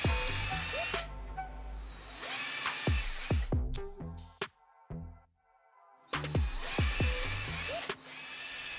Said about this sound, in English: Remove the bridge between holes by drill.